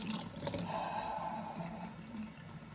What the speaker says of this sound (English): you have to just rinse it out,